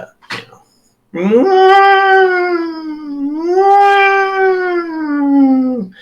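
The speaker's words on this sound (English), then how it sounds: "It's a pissed off cat." A drawn-out, harmonic wailing cry, close to a siren in tone, rises and sweeps in pitch, then holds loud for about five seconds after a short faint sound at the start. An angry cat fits the wailing.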